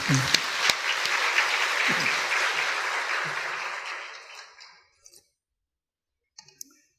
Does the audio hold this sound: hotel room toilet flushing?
no